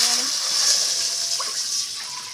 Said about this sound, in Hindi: इसमें 1 लीटर पूरा पानी इसमें हम ऐड करेंगे।